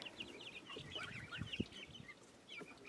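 Lav Split chickens give short, soft clucks and murmurs close by, a few low grunting notes mixed with higher chatter over about three seconds.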